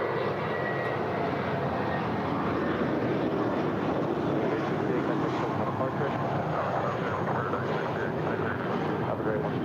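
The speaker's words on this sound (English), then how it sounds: "747-400 freighter about to touch down here" An Atlas Air Boeing 747-400 freighter landing at LAX: a broad, steady jet engine rumble and roar holds for the whole stretch, moderately distant, with no talk over it.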